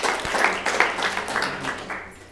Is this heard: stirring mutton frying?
no